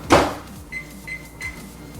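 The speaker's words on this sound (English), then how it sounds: "we're gonna get some marshmallows and we're gonna put them in the microwave" A sharp clunk like a microwave door closing, followed by three short evenly spaced electronic beeps from the microwave oven heating marshmallows.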